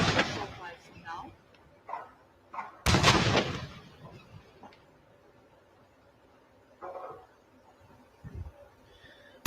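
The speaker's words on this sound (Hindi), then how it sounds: "Honorable President of India receiving 21 gun salute live on your screen." Artillery fires a 21-gun salute for the President of India at a naval fleet review in Visakhapatnam. One loud, sharp boom stands out early, with softer distant thuds around it, under ongoing commentary.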